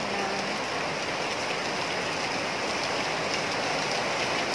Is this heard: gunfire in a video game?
no